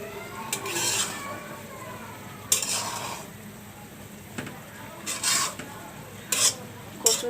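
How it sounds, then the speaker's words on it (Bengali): Cooked taro stems stirred in a metal pot, with intermittent scraping and clanking spoon strokes in separate bursts, close up and no talk. "এই জন্য এখন মিলে যাওয়ার পর আমি লাড়া দিচ্ছি"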